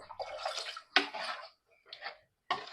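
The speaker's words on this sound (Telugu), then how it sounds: "నీళ్ళు పోస్తున్నా." Water is poured into a pot of goat offal curry in several short splashing bursts separated by brief pauses, close and fairly soft.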